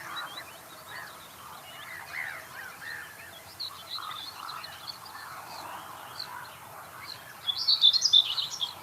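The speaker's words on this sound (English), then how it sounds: "And so that hen is now yelping. That's what we call a yelp. Gobbler is gobbling back at it." Wild turkeys calling in open country, a hen yelping in repeated short notes while a gobbler answers with rattling gobbles, distant at first and louder bursts near the end, no talking.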